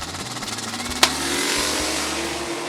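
A Mustang drag race car launches off the starting line at a Hot Rod Drag Week event, its loud engine droning and rising, with one sharp crack early on over a steady roar.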